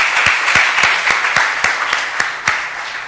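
Audience applause at a conference at Instituto IDEAS, a sparse crowd clapping with distinct individual claps standing out over a steady wash of hands, fairly close and loud, with no talk over it.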